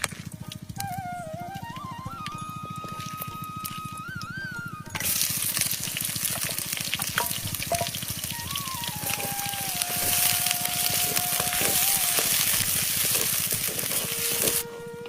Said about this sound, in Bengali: তেল গরম হয়ে গেছে, এখন কি দেওয়া হলো? গরম মশলা না, পেঁয়াজ মরিচ দিয়ে দেওয়া হবে এখন